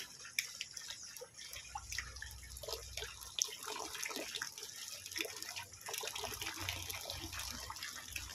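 Water runs and drips steadily into a cattle drinking trough outdoors, a continuous trickle with scattered splashes, close and moderately quiet with no talking.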